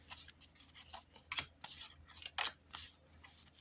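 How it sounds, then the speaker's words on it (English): Soft papery riffling and rubbing in quick irregular bursts, close and quiet, as tarot cards are shuffled by hand with no talking. "Let me mix the cards up a little bit."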